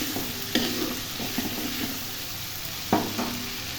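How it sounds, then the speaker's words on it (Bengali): Ginger and garlic paste fries with onions in hot oil for a Bengali hilsa fish and brinjal curry, giving a steady close sizzle with a couple of sharp spoon scrapes against the pan as it is stirred. "এবার ভালোভাবে আদা রসুন দিয়ে পেঁয়াজের সাথে ভেজে নেব"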